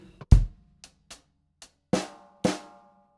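A drum kit plays a bar 16 fill: sparse, sharp hits with a heavy opening thump, a few light taps, then two loud ringing snare strikes near the end.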